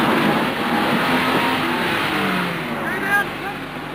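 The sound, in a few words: stunt car driving to practise a nosedive crash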